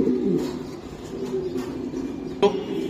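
Racing pigeons coo nearby in low, throaty murmurs, with a short sharper note near the end and no one talking.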